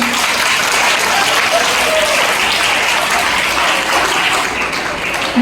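A school Marathi Language Day gathering in Juhu, Mumbai, where an audience gives students a loud, dense round of applause that stays steady and continuous for several seconds, up close and without talk.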